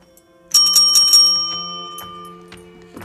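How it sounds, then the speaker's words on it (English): A small hand bell rung at a Bunco dice game table sounds a bright cluster of rapid dings, then a few lighter strikes that fade with a lingering ring, close and clear. "When you hear this little bell go off"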